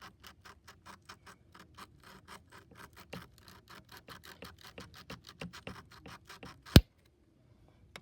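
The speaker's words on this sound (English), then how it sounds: "I might have to rub that back and forth a little bit more." Oxidized part on a McCulloch D44 chainsaw rubbed clean by hand, a steady run of quick, evenly paced scraping strokes, close and fairly quiet, ending in one sharp louder knock before falling silent.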